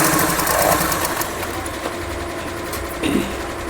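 A sewing machine stitches organza cloth with a steady motor hum and rapid needle chatter, a close, fairly loud run with slight changes in pace.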